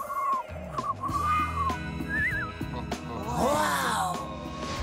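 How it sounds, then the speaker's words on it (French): A powerful, piercing whistle in a Teen Titans Go! cartoon scene, with rising and falling pitched tones that sweep upward near the end over layered music and vocal sounds. "Robin, jamais je n'ai entendu de sifflement si puissant."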